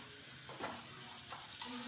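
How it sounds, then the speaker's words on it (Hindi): Shami kebabs fry in a hot pan and are turned over, giving a steady close sizzle with a few soft scrapes and pops, no voices. "अभी मैं आपको एक टर्न करके भी दिखाती हूँ, देखिएगा ये टूटेंगे भी नहीं।"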